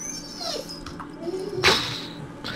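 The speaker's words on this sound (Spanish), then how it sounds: "Hasta el perro llora" A dog whimpers in a few thin, high, wavering whines, close by, with brief soft noises between them.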